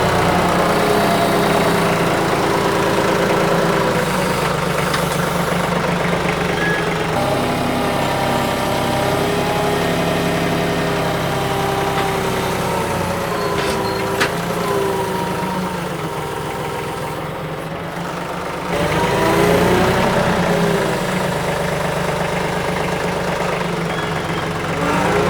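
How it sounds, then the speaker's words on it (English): A stout loader's engine idles close by with a loud, steady, slightly knocking drone that dips briefly in level, with no talking. "That is one stout loader for sure."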